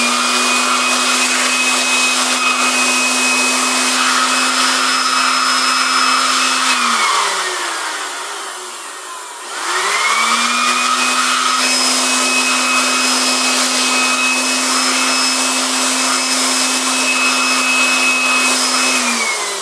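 Compressed air blasting steadily into a Lenovo ThinkCentre M710Q mini PC while a screwdriver holds its fan still, a loud rushing hiss with a whining tone that cuts out briefly midway and then resumes at full strength.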